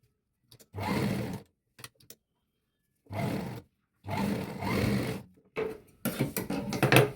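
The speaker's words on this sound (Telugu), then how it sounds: "ఇలా పై వైపుకండి పై వైపుకి తిప్పిన తర్వాత మనం పైనుంచి ఈ విధంగా స్టిచ్ వేసుకుందాం" A sewing machine stitches a kids' frock in short bursts of whirring motor runs separated by silences, each lasting about half a second to a second, with the bursts growing busier toward the end.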